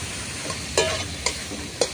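Chicken momo filling with a splash of soy sauce is stirred in a pan, giving a low background sizzle and a few distinct scraping strokes of the spoon against the pan, close and fairly quiet, with no talking.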